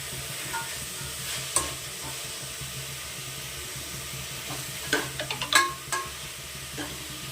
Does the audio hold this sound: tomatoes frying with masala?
yes